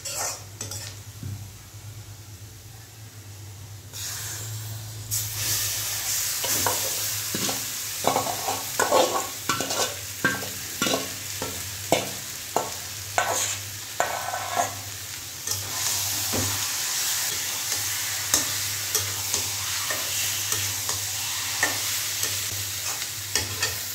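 Meat sizzles and fries in a pan while a utensil stirs and scrapes it, with repeated sharp clinks and scrapes over a steady loud sizzle and no talking.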